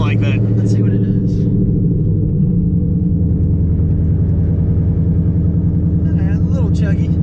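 A Coyote-engined Mustang with aggressive cams chugs and lopes in a high gear, its loud, uneven low rumble steady and close throughout, with someone briefly talking over it.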